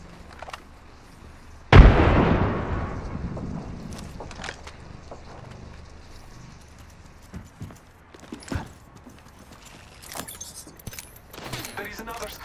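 A frag grenade detonates in the video game Apex Legends with one sudden, loud, sharp blast that fades off over a couple of seconds. Quieter in-game footsteps and clatter follow.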